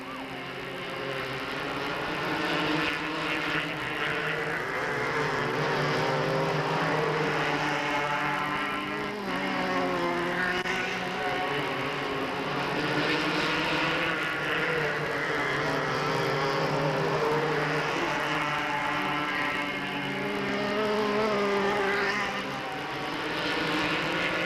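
Race cars in the 250s class at Delta Speedway in 1997 roar around the track in a dense, continuous layered engine drone that stays loud, with pitches rising and falling as the cars sweep past.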